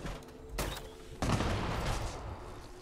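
Grenades go off in the video game Fallout 76, giving two sharp booming bursts close together, each followed by a rumbling tail, with no talking over them.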